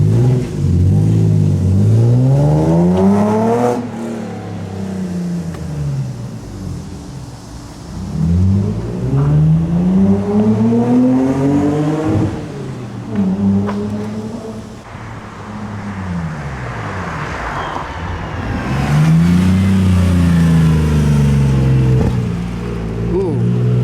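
A Lexus IS300 SportCross with an aftermarket exhaust revs repeatedly in long rising and falling sweeps, loud and close, with exhaust pops crackling between the pulls.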